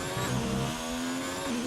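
An Alfa race car engine in a racing video game set in Australia holds a loud, steady high rev, its tone rising and shifting slightly near the end.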